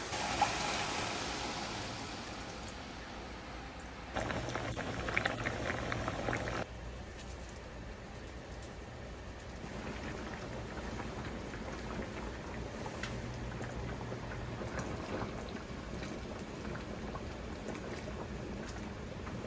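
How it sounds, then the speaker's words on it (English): Venison miso bolognese sauce with meat and vegetables simmers in a pan, giving a steady, close bubbling and hissing wash that runs throughout, with a louder, denser stretch partway through and no voices. "We're going to bring it to a simmer until it gets nice and thick."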